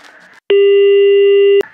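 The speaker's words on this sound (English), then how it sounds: "The line is busy." A telephone line gives a loud, steady electronic busy tone lasting about a second, alone between short bits of muffled background sound.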